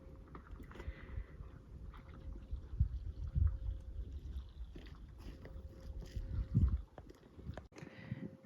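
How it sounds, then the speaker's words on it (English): Wind blows outdoors on a southern Alberta farm on a cold January morning, making a low, faint, steady rumble that buffets the microphone with a few stronger gusts. "A little bit of wind."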